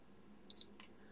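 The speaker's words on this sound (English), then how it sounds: "tiny little beep, and it comes up and it's taken one photograph" A tiny electronic beep from a pair of camera binoculars taking a photo, one short thin tone followed by a faint click, alone in a quiet room.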